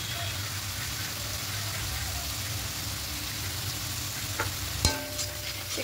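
Tilapia curry masala with ground coriander and salt sautéing in a pan, a dense, even sizzle and frying hiss held close, broken near the end by a sharp clink of utensil against pan.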